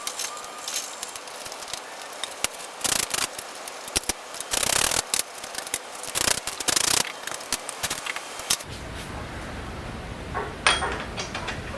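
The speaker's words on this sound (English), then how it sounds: "I crack these nuts in a cross pattern and I also tighten them up in a cross pattern." A wrench loosens the rear wheel nuts of a BMW F800ST motorcycle in a cross pattern, making loud, close metallic clanks and ratcheting scrapes in irregular bursts over a steady background noise.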